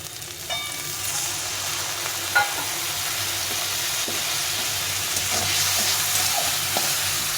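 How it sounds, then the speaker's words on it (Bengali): Ground cumin and chili powder frying with a splash of water in a pan, a steady close sizzle with faint stirring scrapes throughout, no talking. "এখন দিয়ে দেবো একটু জিরে গুঁড়ো আর পরিমাণ মতো লঙ্কা গুঁড়ো দিয়ে একটু জল দিয়ে এটাকে ভালো করে কষিয়ে নিতে হবে।"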